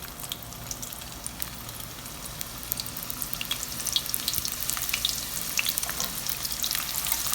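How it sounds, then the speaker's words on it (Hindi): Thin, long slices of a medium onion fry in hot oil for Kabuli pulao, a close, steady crackling sizzle with scattered sharp pops throughout. "उसको यूँ पतला पतला लंबा लंबा करके काट लिया और इसको हम ऑयल में डाल देते हैं।"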